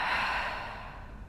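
A single long, breathy exhale during a Pilates twist exercise, close and soft, fading out gradually over about a second.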